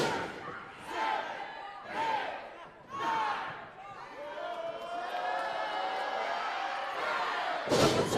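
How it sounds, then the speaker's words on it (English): A Pitt Fight arena crowd roars with sustained cheering and shouting, swelling in several loud surges before settling into a steady dense roar, with a burst of noise near the end. "Let's let the Pitt crowd handle it."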